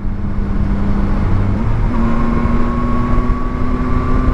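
A Yamaha Tracer 9 GT motorcycle downshifts with its quickshifter, the loud engine drone stepping in pitch mid-clip under heavy wind rush, close and continuous.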